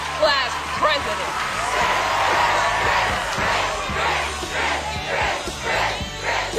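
School assembly crowd of students cheering a name for an 8th grade class president candidate, loud rhythmic chanting and whoops in repeated bursts.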